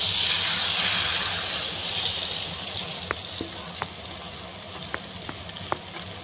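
Beaten eggs fry in hot oil in a pan, giving a steady broad sizzle close by, with a few faint ticks and pops of utensils as it settles.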